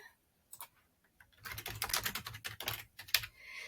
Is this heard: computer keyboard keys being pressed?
yes